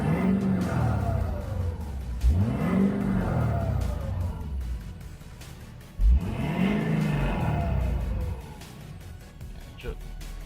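A 2014 Ford F350 6.7 Powerstroke diesel revs up twice with rising and falling engine sweeps, each ending in a turbo blow-off whoosh, heard close with a faint voice under the noise.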